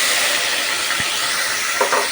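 Chopped tomatoes frying in oil in a pan for a mutton curry, a steady close sizzle and hiss throughout with a light tap of a utensil.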